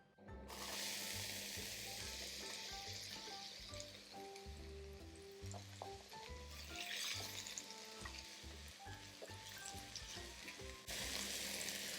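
Two garlic cloves sautéing in a hot wok, a steady close sizzle with occasional clinks and stirring, running continuously and loudest near the end, with no talking.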